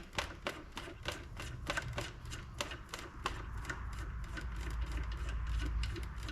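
A small keeper screw is driven into an LED high bay light fixture with a power driver, producing a steady run of rapid, evenly spaced clicking ratchets, fairly quiet and close, ending in a low hum.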